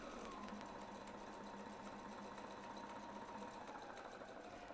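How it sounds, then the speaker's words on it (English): A sewing machine stitches steadily along a quilting template, with an even mechanical whir and rapid needle patter running throughout at low, close level. "Holding the tails, we're going to sew from A"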